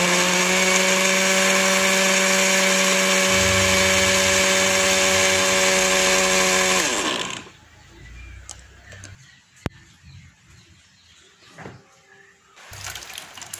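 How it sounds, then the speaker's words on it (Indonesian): Blender whirring loudly as it purees steamed yellow sweet potato with water, a steady high motor whine for about seven seconds before it cuts off abruptly, followed by quiet handling noises and a brief restart near the end. "setelah itu blender ubinya ini sampai halus."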